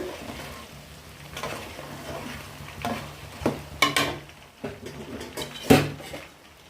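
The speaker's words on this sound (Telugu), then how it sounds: "ఇప్పుడు కబాబు బాగా పచ్చివాసన పోయేలాగా వేయించుకోవాలి" Chicken kababs fry in a pan at home, a soft continuous sizzle broken by repeated scraping stirs and clinks of a utensil against the metal, close and moderately loud.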